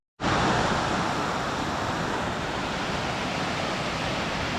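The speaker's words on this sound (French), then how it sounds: "la première cascade, la cascadette" Small waterfall, a little cascade in the Ourika valley near Marrakech, pouring as a steady, loud, dense rush of water that starts abruptly and continues unbroken, close by, with no voices.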